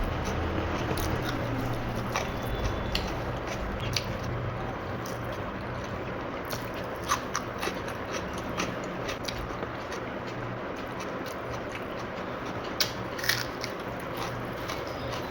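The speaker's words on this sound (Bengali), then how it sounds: "তো চলো খাওয়া স্টার্ট করা যাক।" Someone eating rice with mashed potato, salad and raw onion, with soft close chewing and occasional crunchy bites over a steady background hum.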